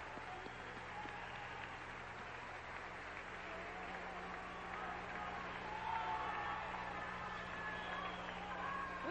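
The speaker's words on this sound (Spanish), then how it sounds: "Pido un fuerte aplauso para ellos." At the 1993 Miss Universe pageant, an audience gives the judging panel a sustained round of applause, an even roar of many hands clapping heard from a distance, with a crowd murmur and voices mixed in.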